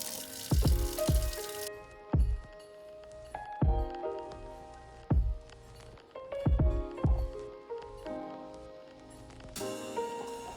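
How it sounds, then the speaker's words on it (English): Hot water poured into a coffee mug to warm it, heard as a series of soft splashing and clinking sounds in a quiet kitchen, each brief and spaced a second or so apart. "I use some hot water to heat up my mug."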